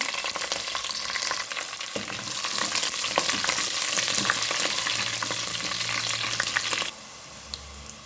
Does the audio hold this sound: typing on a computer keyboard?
no